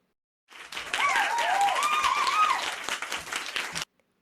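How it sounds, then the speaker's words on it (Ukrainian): Kindergarten children clap together in a burst of applause lasting about three seconds, steady and fairly loud, with a few young voices rising over it before it stops abruptly. "Отримуйте оплески!"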